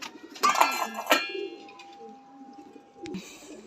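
Soft pigeon coos and bird calls rise briefly at the start, followed by a long thin tone and a low rustle near the end.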